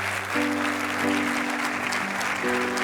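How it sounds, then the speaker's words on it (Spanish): Sustained applause from an audience at an education congress, steady and fairly loud throughout, with a musical tone or hum running beneath the clapping. "recibe este fuerte aplauso"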